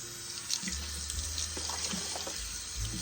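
Water runs steadily from a kitchen tap while dishes are rinsed clean, a continuous close splashing hiss with small irregular clinks and splatters and no talk.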